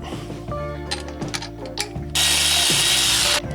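Ratchet wrench clicking on a bolt while fitting LS engine accessories on a 1948 GMC pickup, several bursts of quick close pawl clicks, then a loud steady whir from about two seconds on.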